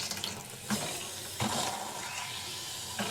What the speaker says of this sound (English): That's the first time that faucet's run water in forever.